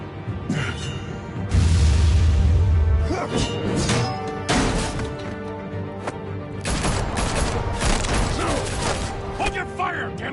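Bursts of gunfire and impact thuds from the video game Batman: The Telltale Series, loud and repeated across a busy game soundscape, with music or mechanical noise underneath and voices speaking at times.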